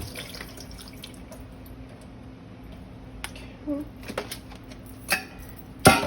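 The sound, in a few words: rinsing strawberries under running tap water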